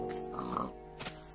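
A pig in the block-built game Minecraft gives a short run of close, clear oinks and grunts lasting about a second, followed by a quieter background of other game sounds.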